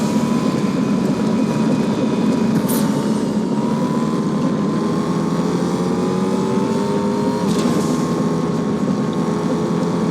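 A train rides in the Fortnite video game with a steady, loud mechanical rumble and rolling drone that holds constant throughout, with only faint swells and no talking.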